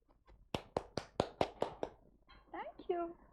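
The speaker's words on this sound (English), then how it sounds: "a round of applause to you there." Several sharp, evenly spaced hand claps ring out close by, about seven in a row, followed by a brief voiced sound, at a Saturday showcase event.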